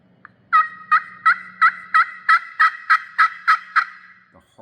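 A hand-operated turkey call sounds a clear run of about ten evenly spaced yelps, loud and close, with a faint low hum beneath at the start and a soft scrape at the end.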